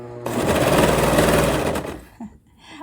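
A sewing machine stitching fabric for a flutter sleeve dress, a loud close rapid whirring run of about a second and a half that then stops, followed by small handling noises.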